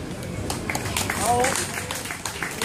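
An outdoor crowd at a ploughing contest prize ceremony claps for the winner on a Kubota K50, steady applause with voices mixed in.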